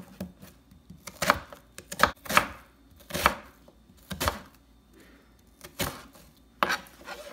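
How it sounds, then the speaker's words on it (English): An onion is chopped into slices with a knife on a cutting board for broccoli soup, about eight sharp, irregular thuds close by with quiet gaps between strokes. "Then I will start chopping my onion."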